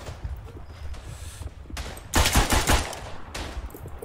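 Gunfire in Verdun set during the Battle of the Somme, with rifles including the Browning automatic rifle: low distant popping and rumble, then a louder burst of rapid shots in the middle before fading back.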